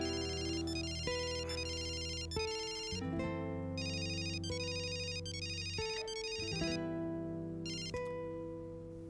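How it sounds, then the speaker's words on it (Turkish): A melodic phone ringtone plays continuously, a bright electronic tune of repeating tones and chords, loud and steady with no voices. "telefonu çalıyor, duymuyor musun?"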